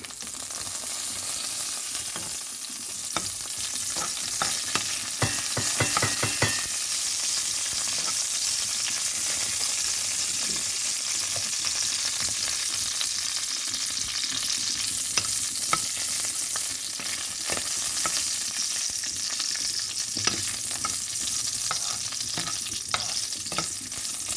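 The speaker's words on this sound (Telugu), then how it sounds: "2 వడియాలు వేయిస్తున్నాను ఇందులోకి" Vadiyalu, sun-dried lentil fritters, frying in oil with a steady close sizzle and bubbling, punctuated by occasional stirring clicks throughout.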